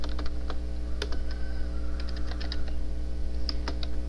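Someone types on a computer keyboard, producing soft, irregular key clicks and taps. The clicks sit over a steady low electrical hum.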